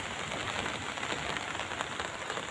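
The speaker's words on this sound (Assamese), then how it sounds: "এই বৰষুণ পৰিছে, চাওক" Heavy monsoon rain pours down during an outdoor fair in Assam, a dense, steady hiss of drops striking surfaces that fills the scene evenly and loudly with no voices.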